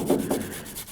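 A small brush scrubs the pad-contact surfaces of a Toyota 4Runner front brake caliper in three or four quick, rough strokes, close and distinct with no talk.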